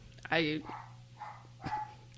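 A dog barks a couple of times in the background while people talk indoors.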